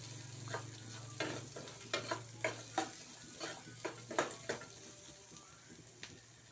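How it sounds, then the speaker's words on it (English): Chopped onion and green chili frying in a pan for a sambar: quiet sizzling under a string of distinct spatula scrapes and taps in an uneven rhythm, close by. "Here I am adding chopped onion and green chili."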